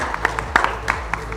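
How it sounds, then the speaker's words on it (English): A conference audience at a business summit gives a short, sparse round of clapping, with individual claps standing out over a low room hum. "please give a big round of applause to this fantastic"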